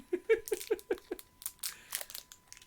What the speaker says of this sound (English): How do you open these? There we go. Those are fancy scissors.